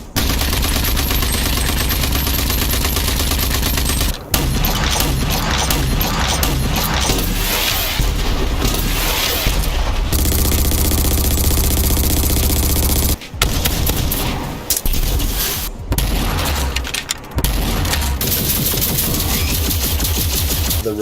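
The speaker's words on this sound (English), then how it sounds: "The gunfire," Sustained, loud gunfire from the Rage 2 video game: dense automatic bursts and booming shots packed closely together, with only a few brief gaps in the barrage.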